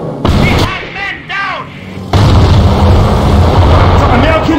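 Cannon artillery fire in the Company of Heroes video game: a sharp boom opens, then a heavier blast lands about two seconds later and rumbles on. Shouted game voices are heard between the shots.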